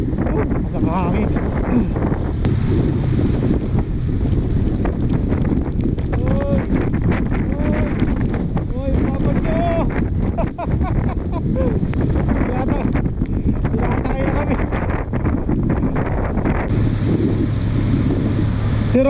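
Strong wind buffets the microphone in a constant low roar while riding a Honda Click 125 motor scooter, with a voice speaking over it throughout.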